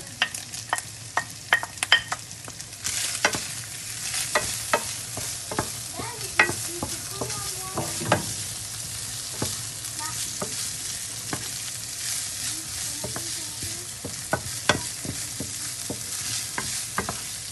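Chopped onion sizzling steadily in a hot pan for boeuf bourguignon, with frequent sharp scrapes and clicks of a utensil stirring it close by; no voices.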